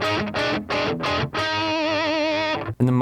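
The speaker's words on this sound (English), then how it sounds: "It's because it's like a retro kind of distortion on it." Electric guitar through a BOSS Katana MK2 amp with a Rat-style booster giving retro distortion, several short chugged chords then a long sustained ringing chord and a final stab, loud and close with no talking.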